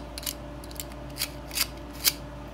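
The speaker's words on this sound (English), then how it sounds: "Let's get these launchers ready." Beyblade launchers readied before a spinning-top battle give off a few short plastic clicks and ratcheting snaps, spaced apart and close by, over a quiet steady hum with no talk.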